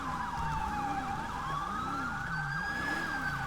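An ambulance siren in the GTA 5 game, close and loud, with a rapid yelping warble layered over a slower rising and falling wail, steady throughout.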